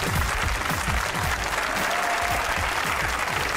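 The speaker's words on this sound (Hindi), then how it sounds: "जोर से बजाएंगे तालियां और तोड़ देंगे जंजीर।" Enthusiastic studio audience applause on a Pakistani comedy talk show, a continuous wash of clapping at steady loudness.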